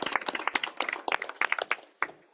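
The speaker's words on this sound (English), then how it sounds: "please join me again in a round of applause for all of those awardees." Scattered, sparse hand claps from a school board meeting audience honoring awardees, distinct individual claps rather than a dense roar, fading out with a few last claps.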